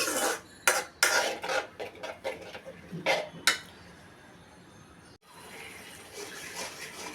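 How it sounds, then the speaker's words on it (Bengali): A spice paste of ginger, green chilli, salt, turmeric, chilli and cumin being stirred and fried in a pan for rohu fish curry, with sharp utensil clatters and scrapes over a soft sizzle, then a quieter hiss. "এখন ওটা কষিয়ে নিচ্ছি।"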